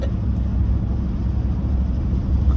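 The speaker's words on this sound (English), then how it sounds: "I can still hear that truck." A truck engine runs at a classic car meet at an antiques centre, a continuous low rumbling drone held at a steady level throughout with no talk over it.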